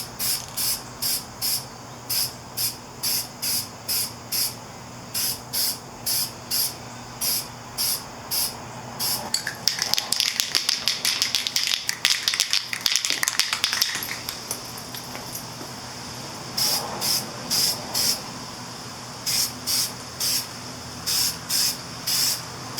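Spray paint hissing onto the front wheel and forks of a Yamaha Virago XV250 bobber build, in short rhythmic bursts, then a long continuous spray, then more short bursts, close and loud.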